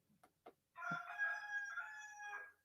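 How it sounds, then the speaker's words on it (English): A rooster crows once through a tablet's small speaker and is picked up by a microphone. The full crow follows two short faint sounds and is clear and fairly close, with no talk over it. "if I turn this up, they can hear the roosters"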